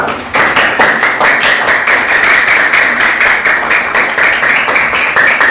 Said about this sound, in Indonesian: Silakan beri tepuk tangan untuk hari ini untuk kita semua anak-anak.